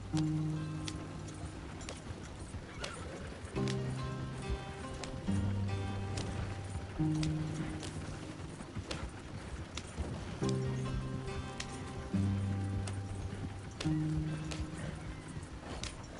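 Horse hooves in Red Dead Redemption 2 clop in a steady galloping rhythm under tonal game music and ambience, moderately loud and close, with no talking.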